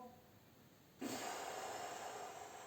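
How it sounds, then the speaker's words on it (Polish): A single loud exhale through the mouth during a gymnastics breathing exercise starts abruptly after a quiet moment and streams out as a long, breathy rush close to the microphone. "nabieramy powietrze nosem, wydychamy głośno ustami"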